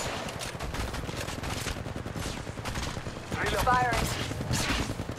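Rapid automatic weapon fire from an Apex Legends match, a dense rattle of shots running through the whole stretch, loud and close, with a brief whistling tone midway and game sounds layered underneath.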